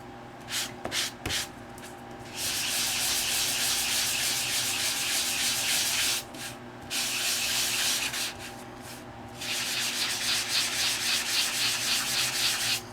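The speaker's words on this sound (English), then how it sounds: "And I'm sanding to a lighter color of the green, not to a bright white." Close, scratchy rubbing of sandpaper on green cardstock in long continuous passes, broken by a few brief pauses, with no talking.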